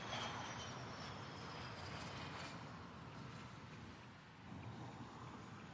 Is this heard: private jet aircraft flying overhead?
yes